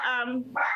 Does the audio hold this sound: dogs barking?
yes